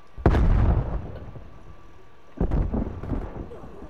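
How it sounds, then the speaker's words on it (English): A grenade blast in the video game Call of Duty: Black Ops Cold War, a heavy booming explosion followed by a second loud burst about two seconds later, each with a rumbling decay. "Grenade out."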